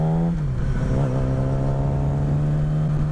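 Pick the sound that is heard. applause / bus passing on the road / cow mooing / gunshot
bus passing on the road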